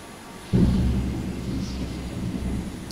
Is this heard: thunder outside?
yes